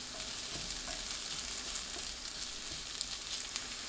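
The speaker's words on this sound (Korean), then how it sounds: "크래미 넣고 중불로 30초 볶아주세요." Crab sticks stir-frying over medium heat in a pan with unsalted butter, minced garlic and Cheongyang chili, giving a steady close crackling sizzle with faint stirring scrapes, no voices.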